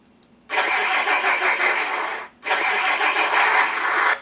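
Truck engine cold start from a Beier SFR-1 sound controller for a Tamiya semi truck: two loud, steady bursts of engine roar, the first running about two seconds, a brief dip, then a second stretch, with no talking.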